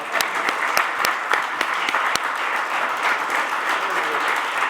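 Steady applause from a seated audience at a Catalan talk and question session, dense clapping filling the whole stretch at even loudness with no voices over it.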